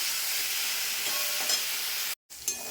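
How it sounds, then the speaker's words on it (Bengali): Bitter gourd, potato and onion fry together in a pan with a loud, continuous hiss and crackle, broken by a brief silent gap just before the end, then resuming. "উচ্ছে আলু পেঁয়াজটা মোটামুটি ভাজা হয়ে গেল"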